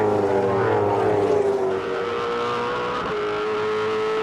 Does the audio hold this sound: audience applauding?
no